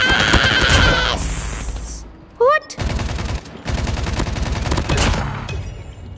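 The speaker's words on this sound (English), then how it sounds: "someone's shooting me" Bursts of rapid gunfire from the mobile shooter game Call of Duty Mobile, loud and close, broken by short gaps and a brief synthetic whine, with game effects around it.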